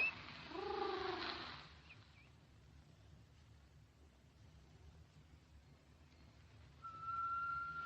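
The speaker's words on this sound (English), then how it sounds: "I don't approve of whistling tea kettles" A tea kettle whistles shrilly at the start, fades into quiet room noise, then a thin whistle rises again near the end.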